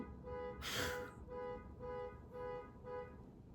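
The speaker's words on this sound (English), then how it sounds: "a car alarm going." A car alarm sounds in the distance, a faint repeating electronic tone pulsing in an even rhythm, with a short burst of noise near the start.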